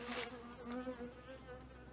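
Honeybees buzz around an open hive during an early-spring colony inspection, a faint, continuous droning hum with a few louder passes of individual bees close by.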